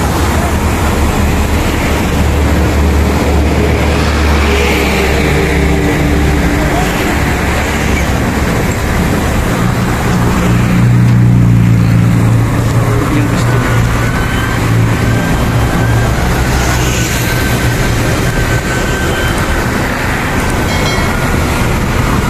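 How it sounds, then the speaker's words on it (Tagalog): A boom truck works at a utility pole installation in Catalunan, Davao, its steady loud diesel rumble blending with passing road traffic, with faint voices underneath. "Gamit yung boom truck."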